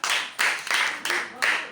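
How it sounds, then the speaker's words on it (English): Students gathered for a sanitation education visit in Agogo clap for a speaker, giving several loud, rhythmic bursts of claps at a steady pace close by. "clap for him"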